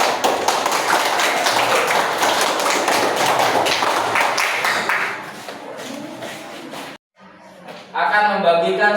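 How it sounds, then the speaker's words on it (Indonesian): A classroom of students clapping their hands in a lively, dense burst of applause lasting several seconds, then fading out, followed by a teacher speaking. "Oke, tepuk tangan, silakan."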